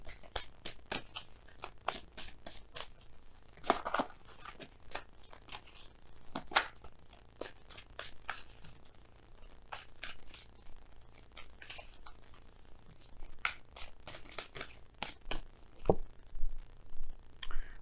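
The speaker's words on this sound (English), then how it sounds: "We're gonna go ahead and pull you guys some oracle cards from the Messenger Oracle." Oracle cards from the Messenger Oracle deck are shuffled and pulled, giving a run of sharp card snaps and riffles in irregular bursts that are close and fairly quiet, with no talking.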